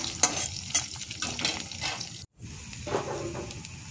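Onions frying in hot oil in a home kitchen pan, a steady soft sizzle with intermittent stirring scrapes, interrupted by one brief silent gap.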